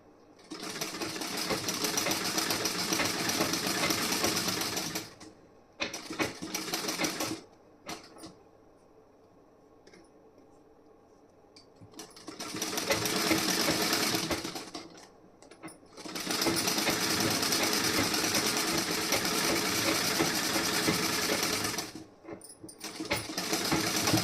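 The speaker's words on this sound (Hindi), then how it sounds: "किनारे किनारे से सिलाई लगाते जाना है" A sewing machine runs in long continuous bursts of stitching along a fabric edge, with a few short pauses between runs, loud and close with no talking.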